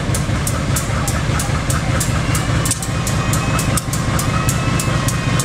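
A train departs Cibatu station on Indonesia's southern line, a loud, close, continuous rumble with a heavy low drone and a steady clickety-clack of wheels over rail joints.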